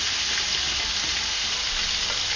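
Steady, loud sizzling of spices hitting softened onions frying in a pan for chicken pulao, a dense continuous hiss with no talk.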